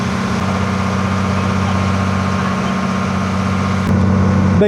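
A renovated houseboat's engine runs steadily on a river near Kavalam in Kerala, a constant low drone with a slight rise in level near the end, no voices.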